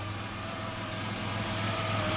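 Ford Ranger engine with a leaking radiator running as the throttle is pushed, a steady close mechanical drone whose pitch and loudness rise slightly toward the end, no talk.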